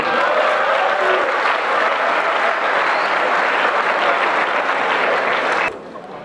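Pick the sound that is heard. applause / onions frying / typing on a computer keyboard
applause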